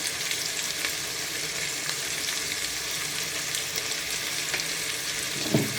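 Potatoes and onions fry in a pan with a steady, even sizzle and crackle that holds throughout, with no voices over it.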